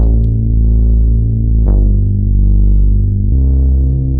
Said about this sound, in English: I needed a bass to really fill out the bottom end